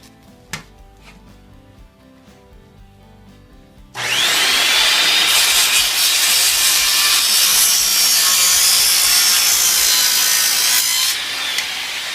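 Power saw cutting 45-degree bevels into the ends of wood boards for a turtle raft: after a few quiet seconds, a loud, continuous rasping cut runs steadily for about eight seconds.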